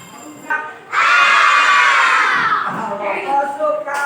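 Children shout loudly together in a classroom singing game, a sudden burst of massed young voices that swells and fades over a few seconds, with some adult singing around it.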